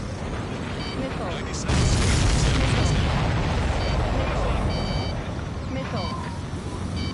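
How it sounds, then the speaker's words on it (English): In the flight combat game Ace Combat, a missile strikes a supply ship and sets off a sudden, loud, rumbling explosion that swells and lingers amid steady background noise, while voices talk over it. "Missile hit supply ship dead on."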